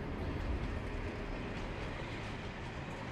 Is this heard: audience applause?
no